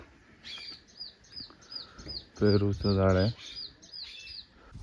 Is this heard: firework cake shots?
no